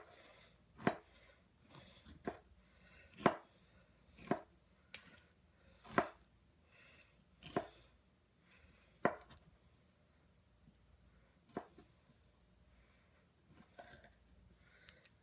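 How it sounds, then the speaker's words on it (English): A serrated knife roughly chops vegetables on a cutting board, about a dozen separate sharp thuds at an uneven, unhurried pace, close by and clear against a quiet background with no talking. "I'm just doing a rough kind of a chop on these"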